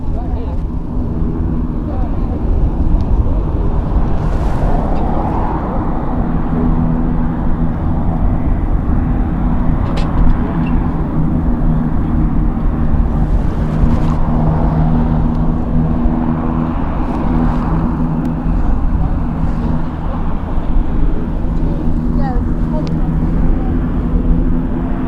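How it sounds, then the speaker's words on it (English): A Beechcraft King Air turboprop drones at an RAF airfield during a military air exercise, its steady propeller hum running continuously in the distance beneath someone talking throughout. "I can hear a King Air."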